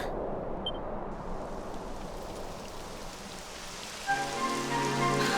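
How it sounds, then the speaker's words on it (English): Steady rain in the video game Dragon Quest XI patters across a surface, a dense broadband hiss throughout, joined near the end by a sustained musical tone. "It would have to go and start raining, wouldn't it?"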